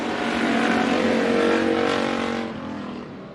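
Dirt-track race cars roar off turn four at a green flag heat race start at Bakersfield Speedway, a loud dense engine drone swelling then fading slightly as the pack passes.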